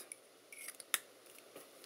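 A small, sharp plastic click near the middle as a cover snaps onto scissors, surrounded by faint light handling rustles in a quiet room.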